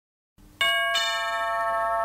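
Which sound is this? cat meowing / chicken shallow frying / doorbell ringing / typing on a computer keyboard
doorbell ringing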